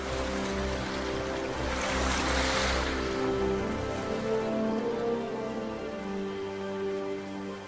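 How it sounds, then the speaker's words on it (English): Drifting river ice in spring, a continuous watery rush with scattered crackling and tinkling textures, louder early on and easing off later. "the strange sound of drifting river ice signals the start of"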